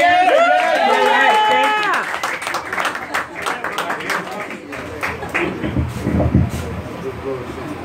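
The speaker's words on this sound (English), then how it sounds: "Can I hear some applause?" After a voice rings out, an audience at a jazz performance breaks into lively applause, a rolling mass of clapping and crowd chatter that swells and stays strong.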